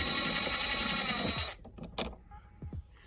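A screwdriver whirs as star screws come out of a car speaker, a buzzing mechanical run for about a second and a half, then a few faint clicks and taps, close and quiet.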